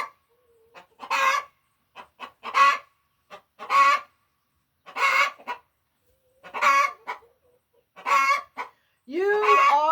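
Chickens clucking and squawking in bursts, close and fairly loud, with a crowing-like call near the end and quiet gaps between calls.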